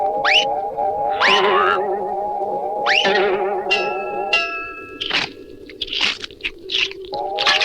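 A cartoon bite into crunchy food followed by chewing: several loud crunches in an irregular rhythm, each with a bouncy, springy tonal effect.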